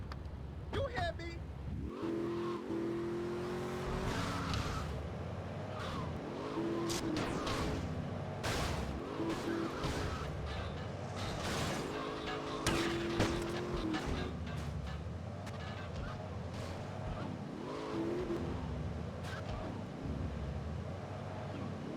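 Car engine driving in the video game GTA Vice City, a steady motor drone with revving swells and scattered sharp bangs, someone talking over it.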